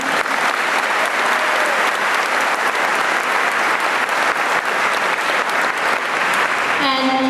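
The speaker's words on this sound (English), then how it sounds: "let's just give them another round of applause." A graduation crowd at Scituate High School keeps up a loud, dense, sustained applause filling the hall, with a voice starting to speak just as the clip ends.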